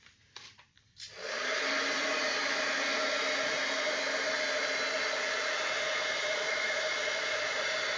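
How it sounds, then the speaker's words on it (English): A heat gun for embossing starts after a second of faint handling noise and then blows a loud, steady, whooshing hiss with a motor whine that holds constant to the end. "I'm just heating up my heat gun, and I'm embossing."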